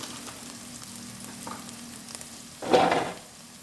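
Cumin seeds dropped into hot mustard oil for a raw fish curry burst into a loud, close sizzle that crackles briefly and then fades, after a quieter stretch of soft kitchen noise.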